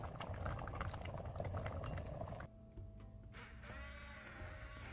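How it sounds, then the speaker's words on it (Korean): Ripe persimmon and water come to a boil in a large pot, with a fast dense bubbling that rattles on for a couple of seconds, then drops to a quieter simmer with a light clink, close and faint. "이렇게 큰 냄비에 부어서 물 4컵 넣어서 끓여주세요"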